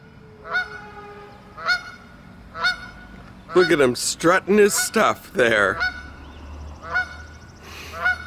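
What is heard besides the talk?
goose honking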